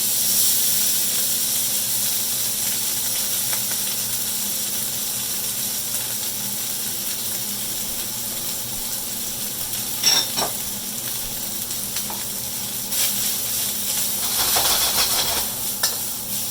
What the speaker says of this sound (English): now we're going to add our rice in here. Do a quick swirl